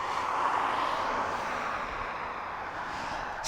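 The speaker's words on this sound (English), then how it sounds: "So many aircraft coming in." An aircraft at East Midlands Airport at night, a faint, steady distant jet engine roar with a broad airy hiss that holds evenly throughout.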